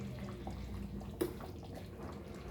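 Water poured into a pan of Goan potato bhaji (patal bhaji) as it cooks, a steady close pouring and trickling wash with a small splash midway and a louder burst at the end, no voices.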